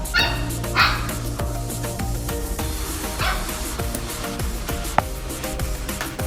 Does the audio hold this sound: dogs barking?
yes